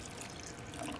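Kombucha mother liquid poured into a jar for a new batch, a short continuous splashing trickle, close and moderately quiet.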